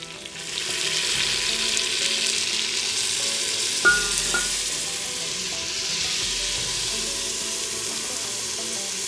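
Carolina pork in a vinegar and cayenne sauce bubbles and sizzles steadily in a chuckwagon pot over heat, with a brief metallic clink partway through.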